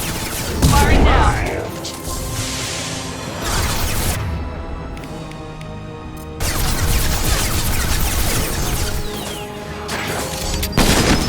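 Gunfire and explosions from the Mass Effect 2 video game on the Insanity setting: heavy, loud bursts and booming impacts that swell and fade over several seconds, with some game voices heard faintly under the combat noise.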